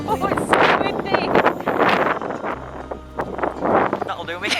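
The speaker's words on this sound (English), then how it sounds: "Oh, it's so windy!" Gusty wind buffets the microphone outdoors on a cold day, a steady low rumble rising and falling under near, continuous talking throughout.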